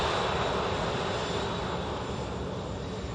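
EasyJet Airbus A321 arriving at Manchester Airport from Marrakesh, its jet engines a steady broad roar, fairly distant and unbroken, with no voices over it.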